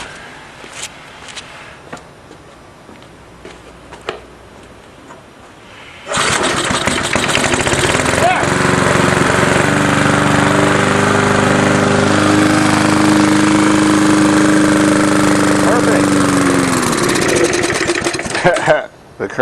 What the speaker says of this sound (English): they'll start in one pull if everything's good